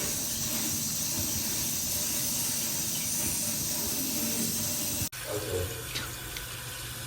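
Water runs from a tap in a Cosmopolitan of Las Vegas terrace studio hotel room with a steady, close hiss, then cuts off sharply after about five seconds, leaving a quieter trickle.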